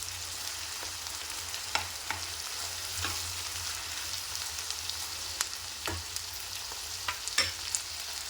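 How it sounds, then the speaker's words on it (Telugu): Thin-cut ivy gourd (dondakaya) strips fry steadily in hot oil, a continuous sizzle heard alone, broken by a few sharp clicks of stirring. "చూడండి, మనకు దొండకాయ ఫ్రై అవుతుంది"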